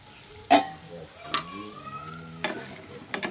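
Sugar melting in a pan for olive preserve being stirred, a few sharp scrapes and clinks of the spoon over a faint, low sizzle.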